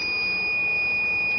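A steady, loud electronic beep tone from a vegetable-oil heater controller on a Suburban holds continuously at one pitch, sounding close and alone.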